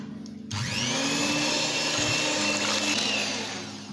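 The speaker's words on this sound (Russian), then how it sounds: "Взбиваем это все до хорошей пены." An electric mixer whipping eggs and sugar into foam gives a steady motor whine that starts abruptly and runs continuously, loud and close, with a slight shift in pitch as it works.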